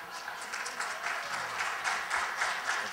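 Audience at a mayoral debate hosted by a Rotary Club in Bayonne breaks into applause, a sustained moderate patter of many hands clapping with some voices mixed in.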